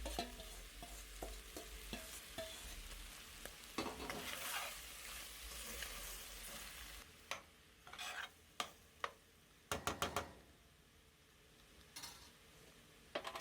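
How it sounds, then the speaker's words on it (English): Crumbled vegetarian tofu being mixed and mashed in a frying pan, with steady sizzling over the first half, then quieter frying punctuated by several sharp spoon or spatula clacks against the pan. "Add the crumbled tofu and give everything a good mix"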